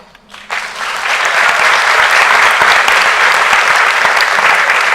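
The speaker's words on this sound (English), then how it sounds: "They deserve the biggest applause." Applause swells after a brief pause and continues as dense, steady clapping from a large crowd, loud and sustained.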